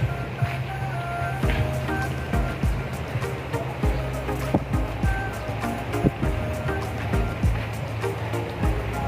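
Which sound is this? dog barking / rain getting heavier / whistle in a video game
rain getting heavier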